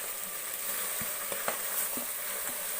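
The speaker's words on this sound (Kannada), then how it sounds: "ಇದು ಸ್ವಲ್ಪ ಫ್ರೈ ಆಗಲಿ" Green peas and tomatoes frying in a pan, a steady low hiss of sizzling with a few soft knocks and stirring taps scattered through, fairly quiet and close, no voices.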